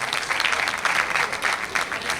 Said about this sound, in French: On va l'applaudir très très fort.